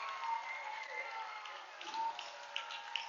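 Basketball crowd in a high school gym applauding and cheering a breakaway slam dunk by the home Tigers, a steady wash of clapping with a few sharper claps near the end, heard alone without talk.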